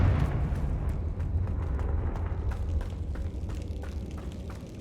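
A fiery Confringo spell blast in the Hogwarts video game erupts with a loud, rumbling burst that decays into crackling debris and a low roar, heard alone without speech.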